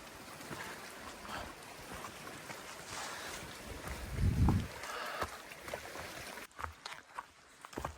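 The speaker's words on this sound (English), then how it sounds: "Listen to that water lapping the shores." Pond water laps gently at the shore along the Appalachian Trail, a soft continuous wash mixed with wind noise, with a slightly stronger splash midway and no talking.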